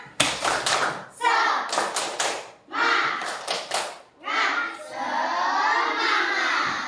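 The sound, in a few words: audience clapping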